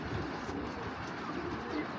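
A male grizzle racer pigeon coos softly and low, a faint murmur held steady against a dull background hum for the whole stretch.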